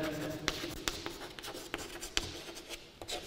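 Chalk or marker taps and strokes on a board during a physics lecture on Coulomb's law, a string of short sharp marks at an uneven pace under a lecturer's ongoing speech.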